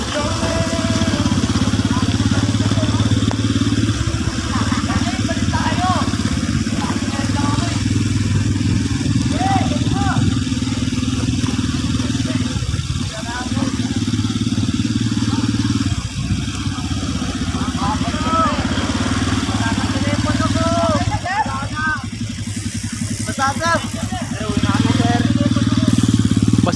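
Motorcycle engines drone loudly and continuously during motor pace training for cyclists at Seaside MOA in the rain, a steady low rumble with occasional dips as bikes pass, and voices talk over it.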